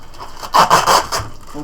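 Plastic protective film is peeled off a polished steel baseboard, giving a short, close, crinkly tearing rustle in a few quick bursts.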